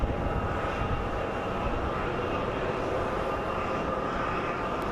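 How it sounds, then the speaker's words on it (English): A Southwest Airlines plane arriving from St. Louis at Phoenix Sky Harbor International Airport makes a steady, moderately loud jet rumble that holds evenly across the stretch, with no talking. "Looks like we have our Southwest Airlines coming in from St. Louis"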